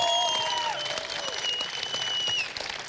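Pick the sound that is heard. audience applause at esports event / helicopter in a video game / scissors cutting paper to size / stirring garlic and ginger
audience applause at esports event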